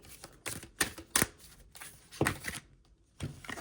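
A deck of tarot cards being shuffled by hand in close, quiet bursts, several riffling swipes separated by short pauses, with no speech over them.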